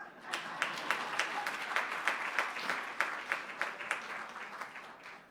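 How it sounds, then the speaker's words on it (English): Audience applause at an official AGM opening ceremony in Botswana, a steady run of distinct, fairly sparse claps from a modest crowd, heard at low level in a large room. "I was hoping for an applause."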